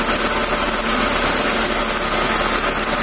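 A Hyundai Atoz automatic engine idles steadily with 10% cooking oil mixed into its engine oil, a constant loud close hum with a high whine and no breaks or talking.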